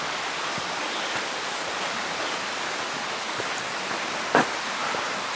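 A river flows beside a hiking trail near a swinging bridge and rock formations in Tishomingo State Park, giving a steady, close rushing wash with one brief louder splash near the end.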